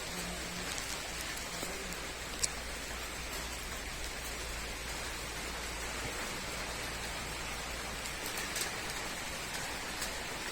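First rain of the year falling steadily, a dense even hiss of rain on surfaces with a faint tap or two, no voices.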